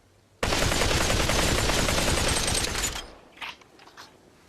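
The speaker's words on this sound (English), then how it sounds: "The gun I recommend you change to is the AKM. So this is your assault rifle gun." An AKM assault rifle in the VR shooter Population: One fires a continuous fully automatic burst lasting about two and a half seconds, loud and close, followed by a few faint clicks.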